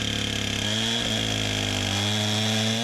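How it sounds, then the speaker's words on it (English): A Stihl MS261 chainsaw running on a milling rail as it cuts the top slab off a log, loud and close, its engine pitch dipping slightly as it bites into the wood. "And you can see how this one's used with that 261 going across the rail to take the top slab off of the log so that Jay can start milling beyond that."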